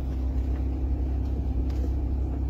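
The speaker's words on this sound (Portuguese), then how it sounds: "e o carro vai começar a movimentar" An automatic car starts rolling with no pedal pressed, giving a steady low engine rumble that holds even and close from start to finish, with no talking over it.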